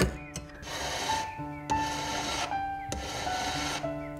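A jeweller hand-saws metal plates for a ring, the fine blade rasping in steady, even back-and-forth strokes about once a second, close and fairly loud with no talking.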